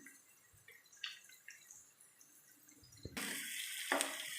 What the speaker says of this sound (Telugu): మనకి గ్రేవీలో రావాలి కాబట్టి లైట్గా వాటర్ పోసుకోవాలి